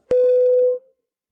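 A single telephone tone, a steady electronic beep lasting under a second, loud and clear on its own with silence after.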